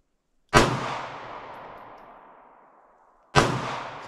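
Two sharp, loud shots from an AMT Backup pistol fired outdoors, each a sudden crack followed by a long fading echo, spaced nearly three seconds apart, with no talking.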